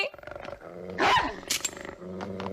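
A cartoon dog growls in a short, loud, rough snarl with a roaring peak partway through, then trails off into lower rumbling.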